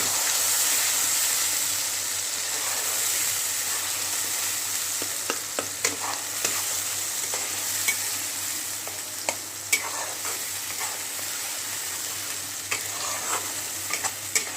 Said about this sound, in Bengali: ভালো করে মশলাটাকে তেলের সাথে মিক্স করে নিচ্ছি